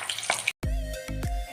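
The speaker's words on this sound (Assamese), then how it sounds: "চাবতে কণী ফ্ৰাই কৰিলে বহুত ফুটে, মাছৰ দৰে ফুটে" Eggs spluttering as they fry in hot oil, a harsh crackling sizzle broken by a brief silent cut and sharp pops and bursts, close and loud.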